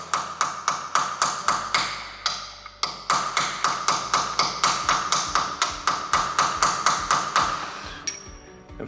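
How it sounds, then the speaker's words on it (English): A metal punch tapped around the edge of a stripped bolt head on a drift car, a long run of sharp, evenly spaced metallic taps, close and crisp, with a brief pause near the start of the run. "Grab a punch and literally tap around the edge."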